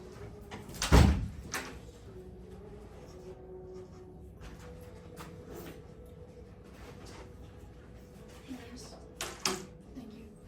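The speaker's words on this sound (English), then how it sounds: "Riley, would you mind shutting the door, please?" A classroom door is shut with one loud thud early on, followed by fainter knocks and shuffling, with a quiet room and faint voices in the background.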